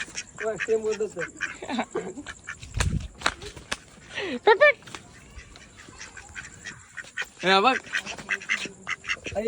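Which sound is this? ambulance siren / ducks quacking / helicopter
ducks quacking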